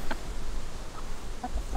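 Chickens give a few soft, scattered clucks nearby over faint outdoor background noise.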